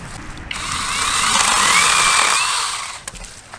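A compact Imoum cordless power tool cuts through tree branches, a sustained whining buzz that swells in the middle and fades out after about three seconds, heard close with no talking.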